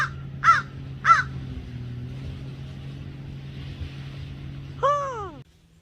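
A crow caws twice in quick succession, then gives a longer harsh call, fairly near, over a low motor hum on Lake Hartwell.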